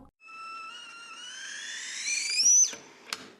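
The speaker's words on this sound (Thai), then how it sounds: "ตอนนี้ได้ยินเสียงนกหวีดแล้ว" A whistle on Rena Ware cookware rises steadily in pitch for a couple of seconds, growing louder before cutting off, followed by a brief clunk.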